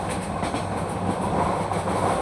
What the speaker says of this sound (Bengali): মাঝখান দিয়ে ট্রেন তার নিজ গতিতে চলে যাচ্ছে।